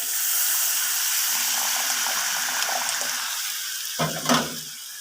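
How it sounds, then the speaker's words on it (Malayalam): Steady sizzling hiss from a hot pan, with a surge of bubbling and splashing near the end as tamarind water is poured into Kerala-style ginger curry. "എടുത്തു വെച്ചിരിക്കുന്ന പുളിവെള്ളം ഒഴിച്ചു കൊടുക്കാം"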